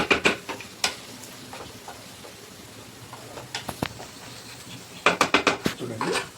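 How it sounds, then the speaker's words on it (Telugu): Hot tempering is poured onto chicken for a home-made Madras-style sambar, giving a soft sizzle under sharp metal clinks and clatters from a spoon and pan, with louder bursts at the start and end and a voice in the background. "ఇదే తాలింపు అందులో ట్రాన్స్ఫర్ చేసేయాలి,"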